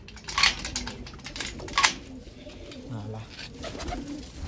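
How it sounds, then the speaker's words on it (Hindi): Pigeons coo softly and repeatedly inside a loft, with some wing flaps and clattering nearby. "ये है भाई अपने नए कबूतर"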